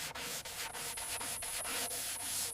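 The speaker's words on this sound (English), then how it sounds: "Sanding block moves slowly along surfaces, smoothing rough patches." A sanding block rubbing over rusty metal on a WWII field gun during restoration, a close, loud, steady rasp in rhythmic back-and-forth strokes with no talking.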